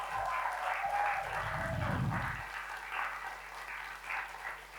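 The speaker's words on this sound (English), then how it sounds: "So we should all give a round of applause for them" Applause from a conference audience at an animal rights gathering, a steady crowd clapping that swells and holds for a few seconds without voices.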